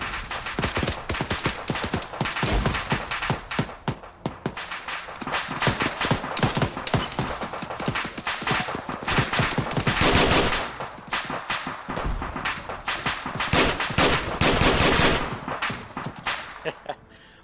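Rapid gunfire from Arma 3, Cold War Panthera campaign, with dense bursts of automatic shots cracking continuously and loudly throughout, brief lulls between volleys.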